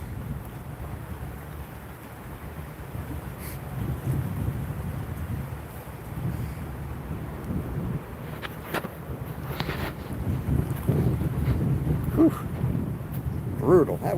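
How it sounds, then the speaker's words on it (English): Strong wind at a carp-fishing spot buffets the microphone in a low, rumbling roar that swells and gusts throughout, with a few faint knocks and a voice briefly mixed in. "That wind is brutal."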